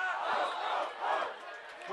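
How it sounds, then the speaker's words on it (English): A football crowd at a Jesuit vs El Camino game roars and cheers after a big run, a loud surging wall of voices that swells twice. "It definitely pumped this crowd up yet again."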